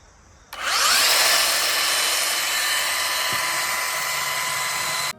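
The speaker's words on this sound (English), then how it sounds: "now I'm just gonna tune it up with a belt sander" A belt sander smooths a wooden mailbox post, starting abruptly with a loud, steady high-pitched whine that holds for several seconds with a slight shift in tone midway before cutting off.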